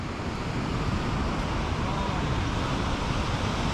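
Steady roar of Indian Ocean surf washing onto a sandy beach in Bali, loud and continuous, with wind rushing across the microphone throughout.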